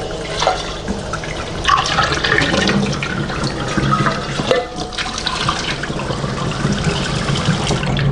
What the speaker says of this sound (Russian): Кастрюльку споласкиваем.